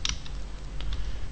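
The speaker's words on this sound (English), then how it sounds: "now we are going to type in the command" Quick clicks of a computer keyboard as a PowerShell command is typed, a short close run of uneven keystrokes with no talking.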